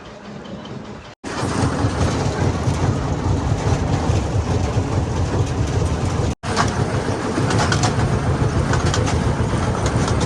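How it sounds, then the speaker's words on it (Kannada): A small tourist train running its round near Elephanta Caves, Mumbai, gives a steady loud rumble and rattle of wheels and cars, close and continuous, broken by two brief cuts. "ಅಲ್ಲಿಂದ ಬರ ಟ್ರೈನ್ ರೌಂಡ್ ಹೋಯ್ತಾರ ನೋಡ್ರಿ"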